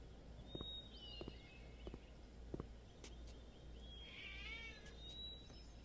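A black-furred cat in the video game Gabriel Knight 3 meows when petted, giving a faint short mew and then a longer wavering one over a quiet background with soft footsteps.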